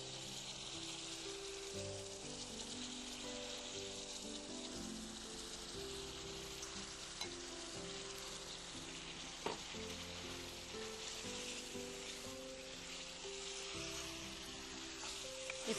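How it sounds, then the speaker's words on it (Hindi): Mutton pieces sizzle and fry in a roasted spice masala, a steady close crackle with faint stirring and occasional small pops throughout, no voices. "अब हम इसमें मटन के पीस डालेंगे।"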